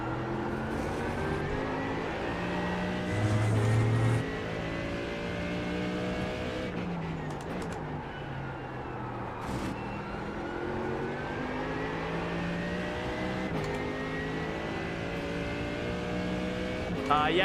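Throaty GT3 race car engine in the iRacing sim game, revving up and down through gear changes with rising and falling tones, steady and fairly close, with faint talk at times.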